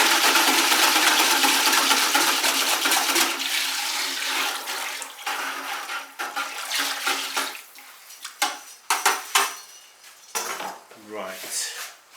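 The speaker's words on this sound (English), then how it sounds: "So let's just give this glaze a bit of a stir." A pottery glaze stirred in a container, giving a wet sloshing swirl that starts loud and continuous, then breaks into irregular scraping clinks and splashes as the stirring slows.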